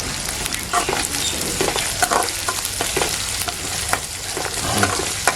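Masala for a mango fish curry sautés in a pan with a dense, continuous sizzle and crackle broken by frequent stirring scrapes, heard close and fairly loud with no voices.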